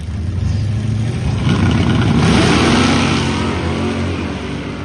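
Drag race at a charity airport event, a 1957 Chevy Bel Air running against a Ford: a loud, steady engine roar swells to a peak midway as the cars accelerate, then eases, with no talk over it.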